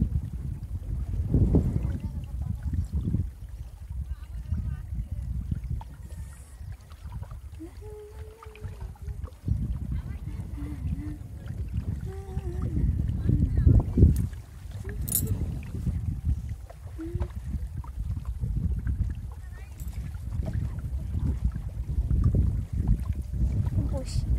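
A small rowing boat sits on water in the Sundarbans, with low sloshing and knocking of the hull and gusts of wind across the microphone, and people talking at intervals.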